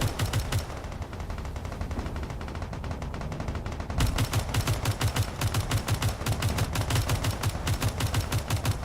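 Relentless rapid gunfire and artillery fire from a gunship battle in Space Engineers, a dense near-continuous rattle of shots with heavy low thumps that grows louder and fuller after a few seconds.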